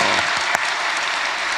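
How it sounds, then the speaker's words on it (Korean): A church congregation gives loud, dense applause for the children's department. Many hands clap steadily and close at hand, with one sharp louder clap standing out partway through. "유년부 축복의 박수"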